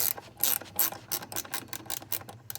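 A small ratchet wrench loosens seat bolts in a truck, giving rapid bursts of crisp clicking strokes close to the microphone, with short pauses between pulls.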